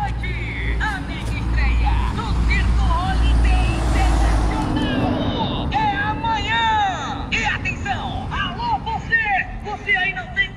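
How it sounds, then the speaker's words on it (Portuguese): A Camaro advertising car blares loudspeaker announcements from a roadside in the Piauí interior, following a steady low bus-engine rumble; the amplified voice rises over traffic noise for the second half. "o cara de Camaro fazendo a propaganda"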